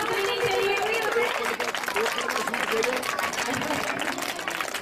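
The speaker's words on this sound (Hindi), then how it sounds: "सभी बच्चे लगातार तालियां बजाते हैं।" A group of children clap continuously in a fast, crackling patter that stays fairly even throughout, mixed with crowd chatter and voices.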